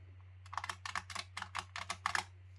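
Fast, crisp keystrokes on a Razer Huntsman Tournament Elite optical keyboard with red switches, about a dozen close clicks in quick irregular bursts over a steady low electrical hum, no voices.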